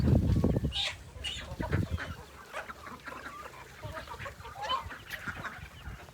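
Chickens cluck and squawk in short, irregular bursts, close by, with rustling and a brief louder scuffle at the start.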